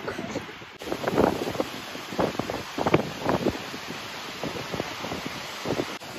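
A broad, constant rush of falling water at an Icelandic waterfall fills the air, buffeted by gusts of wind that hit the microphone in uneven bursts.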